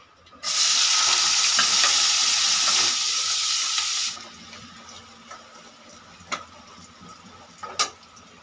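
Cashews and raisins hit hot oil together with a loud burst of sizzling frying that holds for a few seconds, then drops away to quieter crackles and a few stirring clinks.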